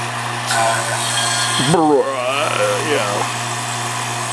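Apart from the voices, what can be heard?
refrigerant recovery pump running for Jeep XJ air conditioning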